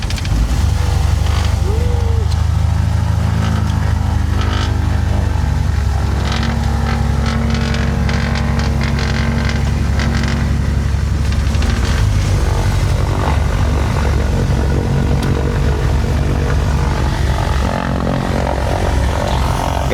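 A propeller aircraft engine drones loudly and steadily in flight on the way to Itbayat, Batanes, heard from inside the cockpit beside the pilot, with a constant deep hum throughout.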